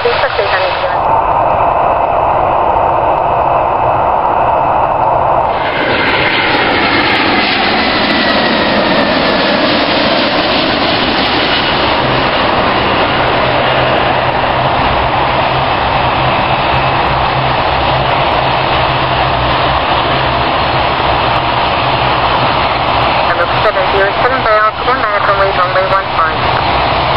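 An airplane takes off at Birmingham airport, heard as a continuous jet roar that swells and shifts in pitch, with radio voice chatter running over it.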